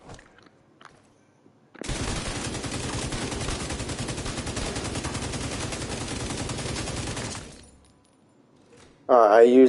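An M249B machine gun in The Division 2 fires one long, unbroken automatic burst of about five seconds, loud and dense, with quiet pauses on either side and a voice coming in at the end.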